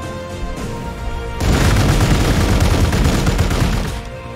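Rapid gunfire and booming weapon fire in the strategy video game Warhammer 40,000: Gladius, dense and loud over background music, building to a sustained burst before easing off.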